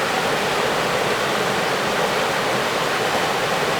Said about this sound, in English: at the moment there is a lot of water flowing in this system